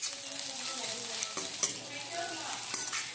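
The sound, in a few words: onions frying and being stirred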